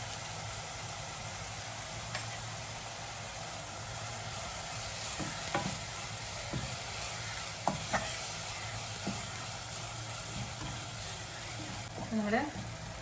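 Sliced onion sautéing in a pan for a Kerala-style green kanthari beef curry, a steady soft sizzle with scattered spoon scrapes and taps, one louder stir near the end; no talk.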